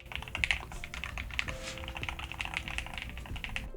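Typing on a Nuphy 65HE keyboard with magnetic switches, a rapid run of close, crisp keystrokes with a marbly clack, steady and continuous, with no talking.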